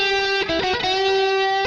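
Electric guitar played through an AC30 distortion amp preset, a few sustained overdriven chords and notes ringing out clearly and alone.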